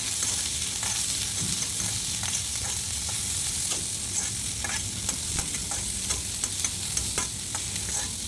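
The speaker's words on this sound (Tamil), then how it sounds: "இப்போ இது ரெண்டும் சேர்ந்து நல்லா வதங்கி வரட்டும்" Onions and green peas sauté together in a pan, a dense, continuous sizzle with frequent scraping and clicking strokes of a spatula, up close and without talk.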